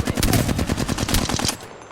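Apex Legends gunfire, a fast, loud, close burst of roughly a dozen evenly spaced shots lasting under two seconds.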